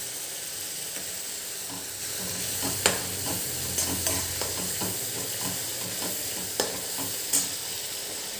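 A prepared spice mixture for dhaba-style aloo bhaji sizzles and fries in a pan while a spoon stirs it, giving a soft continuous crackle broken by occasional scraping knocks, close and fairly quiet.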